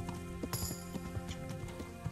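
Horse hooves thud in a quick clip-clop rhythm while riding in the video game Kingdom Come: Deliverance, fairly quiet against a steady background.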